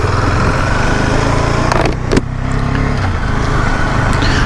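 A Husqvarna Svartpilen 250 motorcycle engine running steadily, a loud, close, continuous buzzing drone with a brief dip and bump midway.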